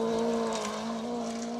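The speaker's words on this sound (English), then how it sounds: "Strong engine notes. Car 37. It's the little Nova." Holden Nova rally car, number 37, passing on a gravel rally stage with a strong, steady engine drone, fairly close and loud throughout.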